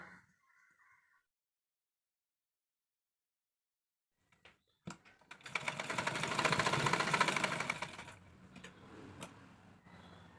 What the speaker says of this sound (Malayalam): അപ്പോൾ ഈ ഒരു ലൈനിൽ കൂടെ നമുക്ക് ഡബിൾ സ്റ്റിച്ച് ചെയ്ത് കൊടുക്കാം കേട്ടോ